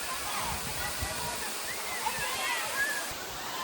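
Moti Jharna, a hill waterfall near Sahibganj, gives a steady, dense rushing roar of splashing water that stays even and unbroken throughout.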